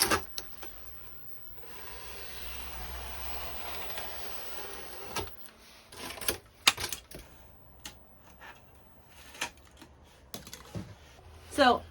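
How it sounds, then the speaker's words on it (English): Knife slicing through foam to rough out fake rocks, heard as a long steady scraping stretch followed by a series of short, separate rasping strokes at close range, with no talk. "So I keep cutting it to get in a general shape of the rocks"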